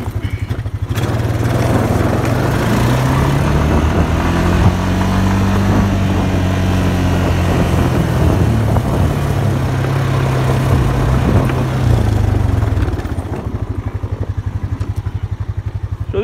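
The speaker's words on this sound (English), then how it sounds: "Let's jump back on the four-wheeler here, and we'll go to section 5 next." A four-wheeler ATV engine drones loudly and close while riding, its pitch rising and falling steadily over several seconds before easing back to a rough, rattly idle at the end.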